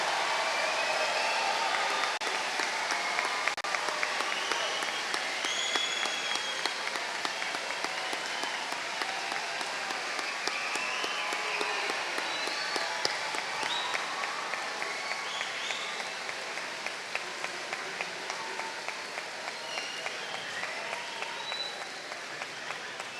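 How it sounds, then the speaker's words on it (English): An audience at an eighth grade school promotion ceremony applauds the graduates, a dense, sustained wash of clapping from a large crowd that continues steadily and slowly thins over more than twenty seconds. "We are ready for that big round of applause for our"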